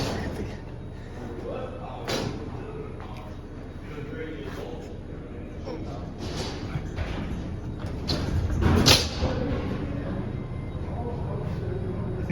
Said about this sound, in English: let's close up the doors